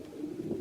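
A pigeon held in someone's hands gives a soft, low, continuous coo that is close and steady through the short moment, with no talk over it.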